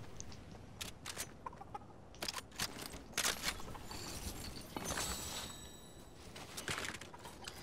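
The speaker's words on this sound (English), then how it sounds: "This chicken is coming, ain't got nothing on me." A chicken clucks in short, scattered bursts in Fortnite, each call brief and moderately loud against a steady hiss of game background noise, with no talking.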